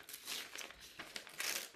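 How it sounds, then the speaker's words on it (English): Paper being torn by hand into petal shapes, a brief close crinkling and ripping with a couple of sharper tears. "You could also use scissors, but I could tear a petal like that."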